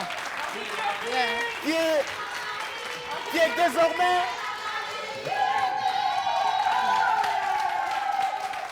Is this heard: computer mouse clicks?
no